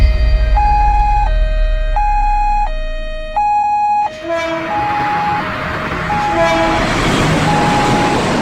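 A railroad crossing signal sounds repeating alternating tones as the barrier closes, then a loud rumbling train rolls past with the warning chime continuing beneath.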